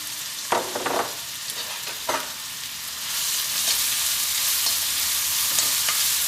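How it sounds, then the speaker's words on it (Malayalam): Chopped onion, ginger and green chilli sizzle in hot oil, with a few scraping stirs early on before the frying swells into a loud, continuous hiss; nobody talks. "ഇനി നമുക്കിതിലേക്ക് അരിഞ്ഞു വെച്ചിരിക്കുന്ന സവോള ചേർക്കാം. ഇഞ്ചി പച്ചമുളകും ചേർക്കാം."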